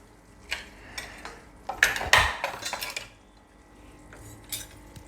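Stuffed drumstick curry stirred in a pan, a spoon scraping and clinking against the metal in a short busy burst, then a few lighter taps, close up with no talk.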